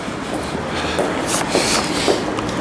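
A train rumbles at Dewsbury station, a loud, steady rolling drone with faint rhythmic wheel clatter close by, no speech.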